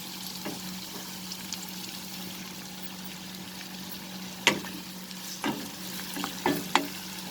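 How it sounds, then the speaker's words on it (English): Onion and dried red chilies sauteing in hot oil in a pan, a steady close sizzle with a few stirring clatters and scrapes near the end, no talk. "So I will saute this, the onion and the dried red chilies."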